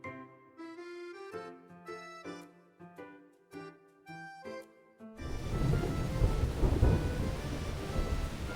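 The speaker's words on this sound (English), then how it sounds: "That sounded like thunder." Thunder rolls in Love and Deepspace, a low rumble with the hiss of rain that comes in loud and takes over after a stretch of soft piano notes. It sounds close and rolls on without a break.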